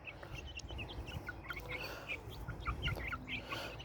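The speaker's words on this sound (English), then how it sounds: "the white one on the left, right there, is Jonathan Livingston chicken" Chickens, white birds among them, clucking and calling repeatedly in a mixed flock outdoors, mid-distance and fairly soft over steady background noise.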